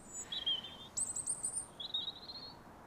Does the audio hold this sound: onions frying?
no